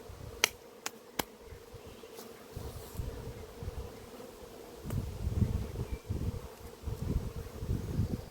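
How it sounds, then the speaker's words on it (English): Honey bees buzzing around a hive in an apiary, a low steady drone with louder passes close by, joined by a few sharp clicks and rustling outdoors; no talking. "I've just been hassled and tagged by bees"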